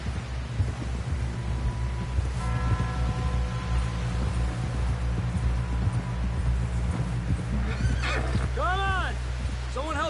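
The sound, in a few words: horse whinnying and hooves in video game Red Dead Redemption 2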